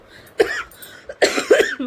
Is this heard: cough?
yes